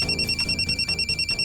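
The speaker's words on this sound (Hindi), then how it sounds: "ये लो, गणेश का ही फोन आ रहा" A mobile phone rings with an incoming call, a loud, bright electronic ringtone pulsing in a quick, regular pattern, alone without any voices.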